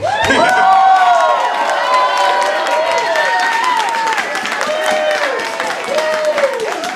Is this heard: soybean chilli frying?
no